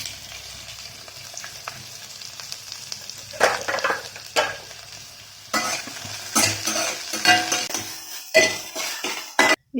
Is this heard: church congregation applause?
no